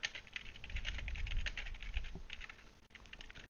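Rapid typing clatters on a computer keyboard, with fast irregular key clicks running continuously at a fairly faint, close level.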